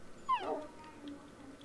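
A puppy in Minecraft gives a single short, high whimpering yip, fairly clear against a quiet background.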